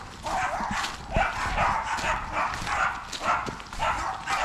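A dog out on a walk on the Lissan House estate in County Tyrone gives close, repeated excited yips and short barks, with a little speech mixed in.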